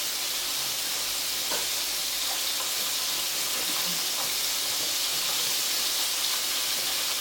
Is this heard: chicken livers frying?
yes